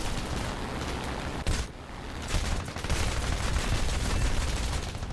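Tank gunfire in War Thunder from a StuG III G: dense, loud bursts of cannon and machine-gun fire with a sharp blast partway through, over continuous rumbling battle noise.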